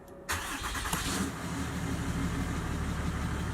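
A Cummins diesel truck engine cranks and catches after a brief quiet start, then settles into a steady, loud, close idle rumble for the rest of the clip.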